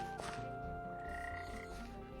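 Frogs croaking in a modded Minecraft game world, a steady run of repeated croaks over a continuous tonal ambient background, moderately loud and alone with no talk.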